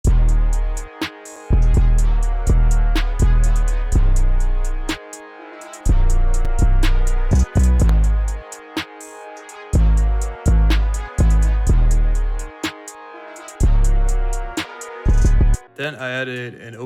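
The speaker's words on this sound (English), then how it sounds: "Next, I added a kind of short, punchy 808." Short, punchy 808 bass hits pattern under a trap-style orchestral beat made in FL Studio, thumping in a loud rhythmic loop with hi-hats and melody, no talking.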